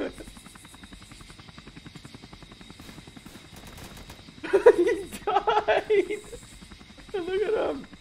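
Helicopter in the Roblox game, a steady whirring drone with regular rotor pulsing held throughout, broken midway by louder bursts of mixed noise and a brief sharp sound near the end.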